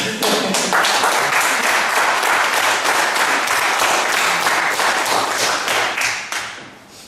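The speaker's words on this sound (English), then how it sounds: "What a clap for our advanced leader bronze." Members at a Toastmasters club meeting give their club leader a lively round of applause: many hands clapping together, loud and sustained, then tapering off near the end.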